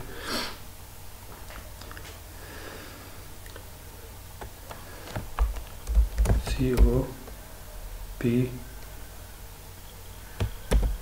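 Intermittent keystrokes on a computer keyboard while writing PHP code, scattered sharp clicks and a few quick bursts of typing, close up, alongside sniffs and quiet breathing, with no speech during the clip.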